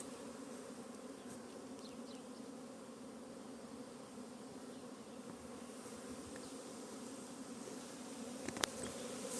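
Honey bees buzz steadily around an apiary, a dense, continuous hum of many insects in flight, fairly faint and even, with no voices.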